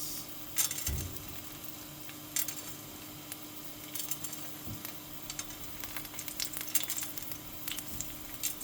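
Garlic, cinnamon, star anise, ginger, cloves and peppers dry-roast in a pan in a Goan home kitchen, a soft steady sizzle broken by occasional clinks and scrapes of stirring.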